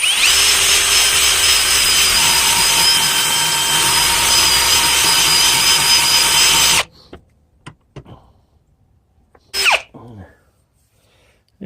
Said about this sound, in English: all I'm going to use is a wire brush on the end of a drill